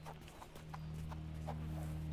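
A horse clip-clops through a video game, a run of soft, evenly spaced hoof beats under a steady low hum of background drone.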